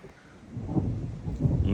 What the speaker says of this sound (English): That's the sound of thunder.